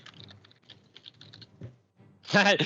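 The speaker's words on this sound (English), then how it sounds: "Furiously typing" Rapid, close clacking on a computer keyboard in a fast, uneven burst, followed by a loud voice speaking at the end.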